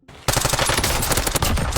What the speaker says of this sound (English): So I pull out my SMG, and I just pre-fire from here.